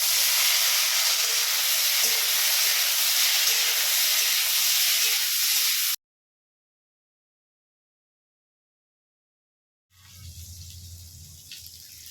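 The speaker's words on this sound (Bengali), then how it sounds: "ভাত ফুটে গেছে" Steam hisses loudly and steadily from a pot of boiling rice for several seconds, then cuts to silence before quieter, lower kitchen sounds return.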